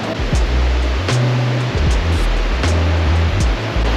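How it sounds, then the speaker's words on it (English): Katsura River in Kyoto, Japan, flowing as a steady broadband rush of water near the Togetsu-Kyo bridge, with low rumbling underneath and occasional faint ticks, continuous throughout. "Behind us is the Katsura River."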